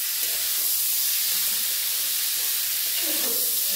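Potatoes and raw jackfruit sautéing in spices give a steady, close broadband sizzle, with faint stirring scrapes showing through now and then.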